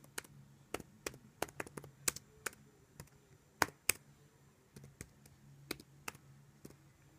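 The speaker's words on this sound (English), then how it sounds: "press backspace, and then you're going to type your name" A name being typed on a computer keyboard: a steady run of light, close key clicks in irregular bursts, with a few louder taps, in a quiet room.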